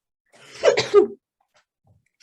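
A single sharp sneeze at a trade show panel discussion, close and fairly loud, with a quick intake and burst lasting under a second, followed by quiet.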